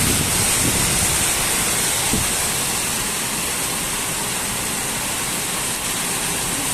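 Heavy rain pours steadily outdoors, starting suddenly and strengthening, a dense continuous broadband hiss like a torrent, loud and unbroken throughout with no voices.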